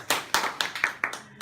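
A small group claps after a student group presentation, giving about six distinct, sharp hand claps in an uneven rhythm. The claps are close and fairly loud, with quiet gaps between them.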